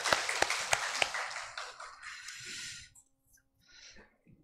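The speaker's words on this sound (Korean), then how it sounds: "우리 할렐루야 찬양대 또 하나님께 영광의 박수를 올려드리겠습니다." Congregation applause for a church choir during a Sunday morning worship service, a loud burst of many hands clapping that thins out and fades within about three seconds, followed by a few faint scattered claps.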